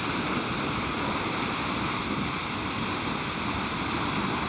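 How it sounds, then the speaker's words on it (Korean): Vernal Fall in Yosemite drops 97 m in a winter landscape of fresh snow, its water pouring down as a steady, dense roar with no breaks and no voices. "높이 97m에서 떨어지는 폭포의 물소리가 소복히 쌓인 눈 위로 안개처럼 내려앉는다"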